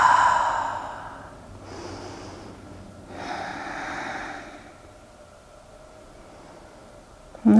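Slow breaths in and out during a seated yoga twist, with a few soft, airy inhales and exhales and quiet gaps between them, heard close and alone.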